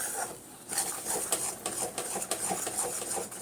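Raw mango jelly is stirred steadily in a pot over a gas flame on low heat, giving a run of soft, repeated scraping and clinking strokes at close range, with no talking.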